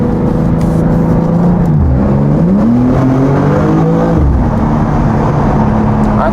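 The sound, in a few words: Jaguar F-Type accelerating hard through an underpass in second gear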